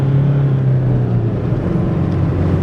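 A Nissan D40 Navara drifting on a closed test area gives a loud, steady engine drone with a low tonal hum and tyre noise, with no voices.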